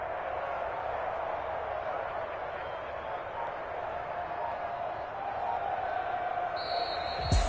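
A home crowd at a Washington versus Giants American football game, a steady, dense roar of applause and cheering that lasts throughout, with a voice talking over it.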